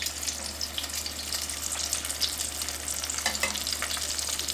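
Empanadas fry in a deep pan of oil, giving a steady soft sizzle and crackle with faint scattered pops, fairly quiet and without talk.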